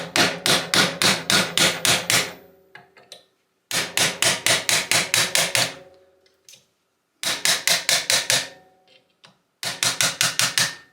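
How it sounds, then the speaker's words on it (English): Rapid series of metallic hammer blows striking the jam nut on a 2012 Kawasaki KX250F rear shock absorber, in several quick bursts separated by short pauses, close and loud. "So you just hit it with a hammer like this."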